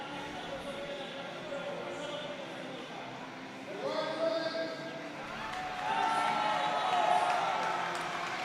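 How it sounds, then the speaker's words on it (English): A crowd roars and cheers throughout a junior powerlifting deadlift attempt at a European Open meet, growing louder midway and peaking near the end, with music and a voice underneath. "The crowd is going and wild."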